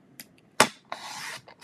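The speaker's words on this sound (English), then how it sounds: "I'm going to come back and take my card and I'm going to cut it" A paper card is cut with a few brief scrapes and clicks, then one longer rasping, sliding cut through the card at close range, with no talking.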